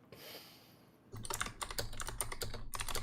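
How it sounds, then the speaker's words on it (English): Fingers clatter on a computer keyboard: after a second of near silence, a quick, uneven run of close key taps continues to the end. "Oh, I'm typing it"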